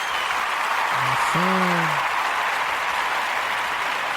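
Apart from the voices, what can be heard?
audience applause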